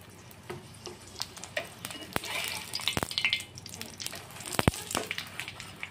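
Roti frying in refined oil on a hot tawa for a vegetable roll, a soft steady sizzle with scattered sharp clicks and taps of a utensil against the pan, close and moderately quiet.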